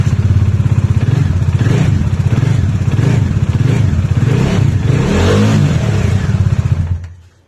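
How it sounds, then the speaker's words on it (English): A Bajaj Dominar 400 motorcycle fitted with a custom free-flow air filter idles loudly right up close, its engine thumping in a steady rapid pulse with slight rises in revs before cutting off abruptly at the end. "make sure you start the bike and check once for everything is alright"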